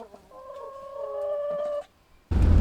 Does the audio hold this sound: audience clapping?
no